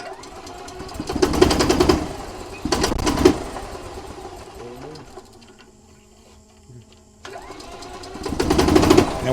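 Gas golf cart engine, its throttle body recently sprayed with carburetor cleaner, cranking in rough loud bursts, stalling into near quiet, then catching again with a pulsing, uneven mechanical run up close.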